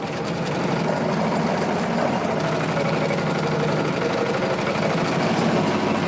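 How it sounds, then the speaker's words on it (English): A sewing machine satin stitches a witch design onto a Halloween tote bag, a fast dense mechanical whir running continuously and fairly loud, with no voices. "The actual witch itself is going to have some satin stitching over the top."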